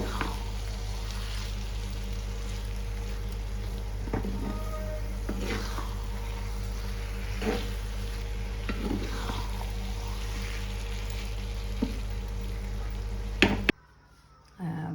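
Cabbage curry being stirred in a pan, a low steady hiss with repeated spatula scrapes and knocks at irregular intervals, cutting off abruptly near the end.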